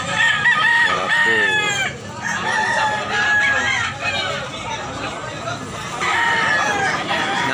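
A blue-legged rooster being shown for sale crows loudly and repeatedly, with clucking fowl and a background murmur of people around, several crows stacking up in quick succession.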